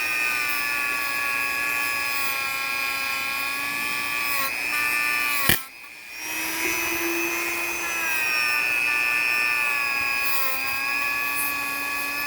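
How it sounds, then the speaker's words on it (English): A wire wheel on a power tool scrubs rust off the metal case of a Sencore ES-102, a loud, steady whirring whine with a brief break in the middle before it spins back up. "the outsides I'm going to clean up a bit with the wire wheel"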